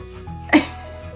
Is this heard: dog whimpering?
yes